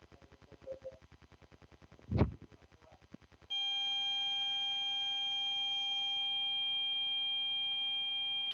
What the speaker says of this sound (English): Is there a machine running in the background? And is there any other thing causing a beep